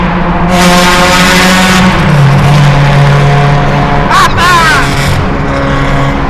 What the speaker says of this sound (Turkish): Hızlı sürmeye başladı arabayı bir anda.